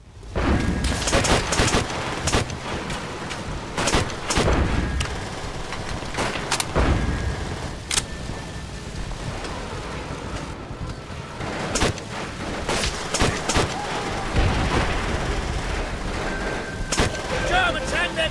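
Gunfire and grenade blasts from the World War II shooter game World at War, with dense repeated shots and booming explosions throughout, loud and close, alongside in-game voices.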